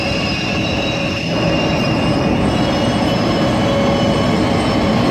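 A black metro train pulls into a station with loud, continuous rumbling and squealing wheels, a steady near roar with no pause.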